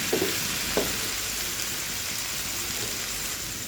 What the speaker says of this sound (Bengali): এটাকে ভালোভাবে একটু ভেজে নেব। ভেজে চিচিঙ্গাগুলো মিশিয়ে নেব।